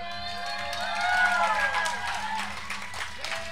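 Audience applause and cheering at a recycled-costume fashion parade during a festival in Barra del Colorado, a steady crowd clapping over a raised voice and music-like tones, swelling midway then holding.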